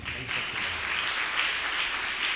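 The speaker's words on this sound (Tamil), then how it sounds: "கைத்தட்டுங்க" A church congregation claps hands during a Tamil prayer service, a steady, dense wash of applause running throughout without clear breaks.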